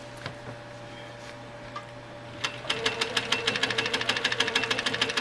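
A sewing machine doing free-motion quilting on a quilt block starts up after a quiet pause and then runs in a fast, even mechanical stitching rhythm, close and alone.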